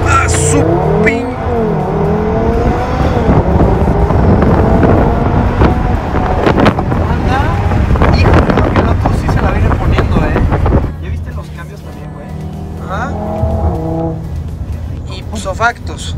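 An Audi TT RS driving, its engine and road roar loud and continuous with wind buffeting the microphone, easing somewhat near the end while people talk over it.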